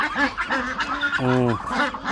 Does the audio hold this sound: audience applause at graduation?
no